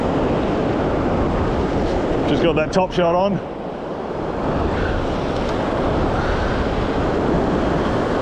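Ocean surf washing up and drawing back in the shallows of a beach where fishing is going on, a steady loud broadband wash with wind noise throughout, and a voice speaking briefly partway through.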